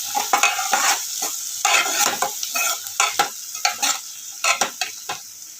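A spoon stirs turmeric and spices in a frying pan while making kadhi, producing repeated scraping strokes over a soft sizzle, close and steady, with no talking.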